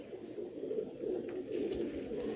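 A male pigeon, a Kamagar crossed with Batera breeding, coos softly and steadily in low repeated throaty pulses, close to the microphone, with no talk over it.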